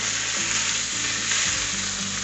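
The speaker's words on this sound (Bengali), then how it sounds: "তবুও আমি কিছুক্ষণ আরও ভেজে নিচ্ছি।" Vegetables frying in oil sizzle loudly and continuously up close, a dense bright hiss with faint stirring underneath, and no talking.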